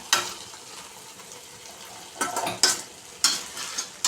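Egg tomato chutney stirred with masala in a frying pan, a spoon scraping in a few separate strokes over a steady low sizzle, close by with no talking.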